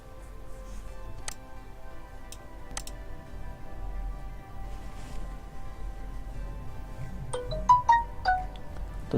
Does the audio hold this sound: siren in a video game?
no